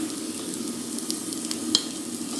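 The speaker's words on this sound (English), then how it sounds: "Let's check their doneness with a fork." A fork pokes crispy air-fried Tex-Mex potatoes, a few light taps and clicks over a continuous hot sizzling hiss, close by.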